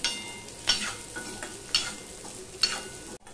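Onion fries in a pan with a gentle steady sizzle as a spatula scrapes through it in three or four distinct strokes, close by, ending in a brief silence, with no voices.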